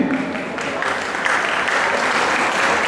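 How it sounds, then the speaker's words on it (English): An audience at an education counseling event applauds for a hotel management school, with thick, continuous clapping that swells slightly partway through. "a big round of applause for Elite School of Hotel Management"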